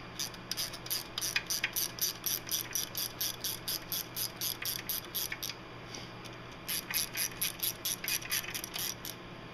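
A ratchet clicks steadily while loosening 5/16 bolts on a small-block Ford 347 engine, a long run of fast, even ticks with one brief pause midway, close and moderately quiet with no voices.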